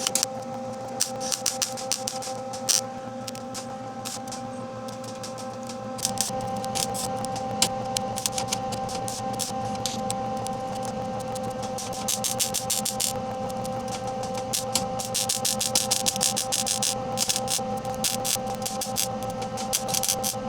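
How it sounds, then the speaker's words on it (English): Welding in a garage produces a steady, close crackling buzz over a constant electrical hum, with denser bursts of spattering crackle partway through. "I think it's time to start welding."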